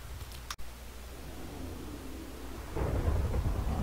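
Thunder rolls in a video game, a low rumble that swells louder toward the end over a steady wash of noise, with no speech.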